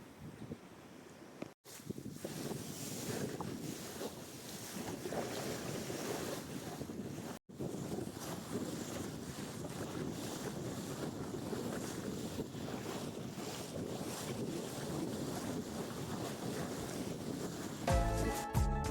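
Strong sea wind roars over a sailboat approaching San Blas, a steady broadband rush of wind buffeting the microphone with waves washing beneath, broken by two brief dropouts.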